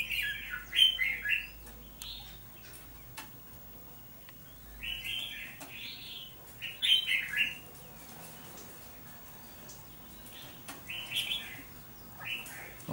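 A caged red-whiskered bulbul, wild-caught and kept in its cage about twenty days, sings in bright chirping phrases. The bursts repeat every few seconds at moderate loudness, and no one speaks.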